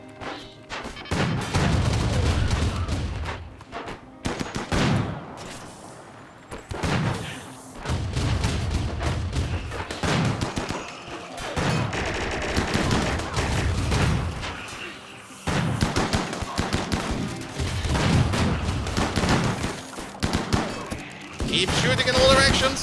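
Video game gunfire crackles in dense, repeated bursts and booming volleys over a long stretch, loud and close, broken by brief pauses, with voices talking in between.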